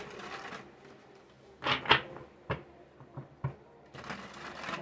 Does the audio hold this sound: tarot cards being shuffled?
yes